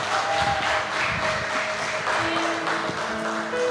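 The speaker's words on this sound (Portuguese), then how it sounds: "Aplauda o Senhor Jesus." A congregation applauds during a Sunday family church service, producing a steady wash of clapping with sustained musical tones underneath and no clear break throughout.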